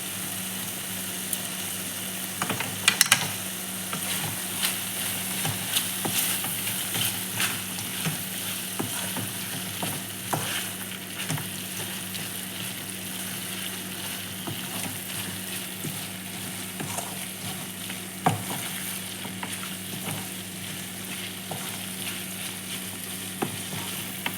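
Dry coconut and garlic fry and get stirred into a pan of stem curry, a steady close sizzle with scattered scraping clicks of the spoon running throughout.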